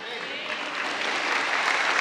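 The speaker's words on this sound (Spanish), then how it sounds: "los pentecostales aplaudimos." Pentecostal church congregation applauding during a worship service, a dense, sustained wash of many hands clapping together, loud and continuous with no pause.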